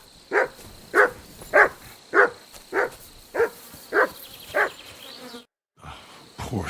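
Mutt, a dog in the video game Kingdom Come Deliverance 2, barks about eight times in a steady, evenly spaced run of fairly loud barks, then falls silent briefly before a sound starts again.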